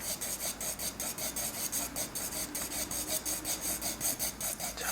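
Graphite pencil shading on paper, built up in repeated even strokes for a darker tone: a steady rhythmic rasping scratch at close range, about two strokes per second, with no voices.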